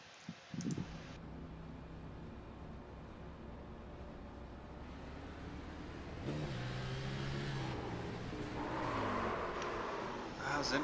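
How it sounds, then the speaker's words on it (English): A racing video game car engine drones steadily with rising revs and harmonic sweeps, then surges louder after a few seconds as the revs jump and tires spin, the whine climbing and wavering near the end. "let's hop on board and you'll be able to hear the tire spin"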